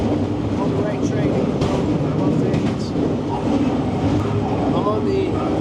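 Rumble of a BNSF intermodal container freight train carrying a loaded consist, a steady rolling roar with faint rail clatter heard from on board, continuous and fairly loud throughout.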